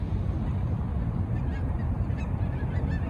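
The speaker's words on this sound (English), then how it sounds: "just a few geese." Geese honk beside a golf course on an outdoor walk, a flock of around a hundred birds heard as a faint, distant scatter of calls under steady wind and ambient noise.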